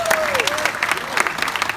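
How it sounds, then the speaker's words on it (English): Audience at a tiger show in Australia claps in a brief, steady burst of applause, with a voice briefly rising over the clapping. "Let's give him another big round of applause"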